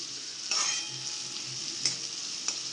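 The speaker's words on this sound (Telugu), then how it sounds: "ఓకే, ఇవి కొంచెం దోరగా వేగాలి." Onions and green chillies fry in a pan with a steady, close sizzle, broken by a few brief clinks and scrapes from stirring.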